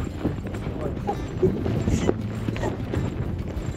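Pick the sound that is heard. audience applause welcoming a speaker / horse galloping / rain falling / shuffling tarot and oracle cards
horse galloping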